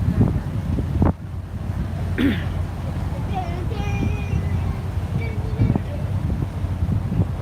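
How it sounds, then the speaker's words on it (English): Steady wind buffets the microphone with a low, constant roar on a river boat in Tokyo near Asakusa, with faint talk and scattered background noises mixed in. "Joji, it's windy out here."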